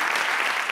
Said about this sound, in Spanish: Un aplauso para Jorge Ponce.